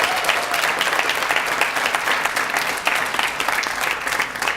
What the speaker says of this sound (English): let's give you guys a big round of applause for that